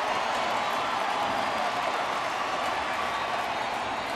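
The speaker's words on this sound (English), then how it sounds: "Crowd's starting to get into it now." A baseball crowd at a Detroit game fills a large stadium with a steady, dense roar of cheering and applause, continuous and evenly loud throughout, with no clear speech.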